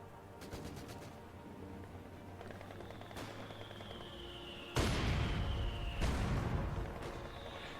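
Machine guns rattle in bursts in a Company of Heroes battle, with rapid staccato fire early on, then heavier booming impacts from mortars and explosions cutting in, loud and close, with no talking.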